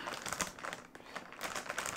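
A cardboard box is folded up by hand, giving a short burst of crinkling, scraping and flapping cardboard sounds close by, with a brief pause in the middle.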